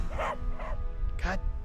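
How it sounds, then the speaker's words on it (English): A dog in the video game Final Fantasy 7 Remake gives a few sharp, close barks in an uneven rhythm, heard alone with no talk over them. "This dog needs to calm itself down."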